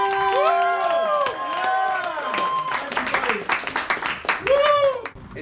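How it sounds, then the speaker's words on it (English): A stand-up comedy crowd at a London show claps and whoops, with scattered sharp hand claps mixed with rising and falling shouts and screams from several voices, fairly close and lively. "Guys, start clapping and screaming!"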